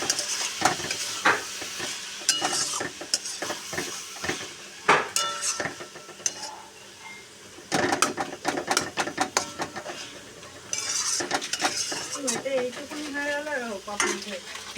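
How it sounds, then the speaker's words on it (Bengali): Small fish frying in a pan for a spicy chorchori, with steady sizzling, irregular spatula scrapes and clinks against the metal, and a brief quieter stretch midway before the frying noise picks back up. "এবার মাছগুলো একটু ভেজে দেবো।"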